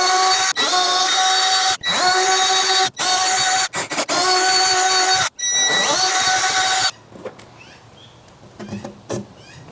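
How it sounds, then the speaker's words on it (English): Power drill boring mounting holes for a DIY budget overland drawer system, several loud close bursts of whining motor separated by brief pauses, followed by quieter handling clatter. "Now that we've got our holes drilled, pretty much ready for assembly now."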